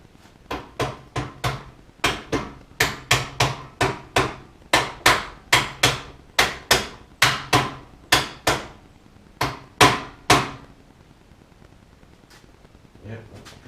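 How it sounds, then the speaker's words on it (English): Repeated loud hammer blows from a whacking stick striking a part on a Suzuki GT550 motorcycle in a home workshop, about twenty sharp knocks in a steady rhythm with short pauses, followed by quieter shuffling. "Get me a whacking stick."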